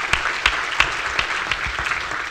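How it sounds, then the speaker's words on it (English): Applause from a seated audience at a women in STEM leadership panel, steady clapping with a few sharper bursts, fairly close and filling the whole moment with no voices over it. "Give her a round of applause."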